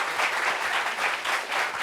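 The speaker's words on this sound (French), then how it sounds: "Applaudissements encore pour sa beauté" Studio audience applause on a French-language talk show, a loud, dense burst of clapping that swells and ebbs slightly across its short length with no talk over it.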